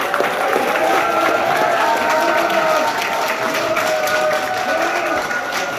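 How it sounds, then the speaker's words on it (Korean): A large crowd claps continuously, a thick sustained roar of applause with some cheering and murmuring voices beneath it. "박수를 치시죠"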